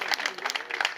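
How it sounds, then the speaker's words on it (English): Brief burst of audience applause at a Cape Verde Independence Day celebration, a dense patter of many hands clapping, moderately loud, with speech mixed in. "So let's give him a round of applause, and each of you."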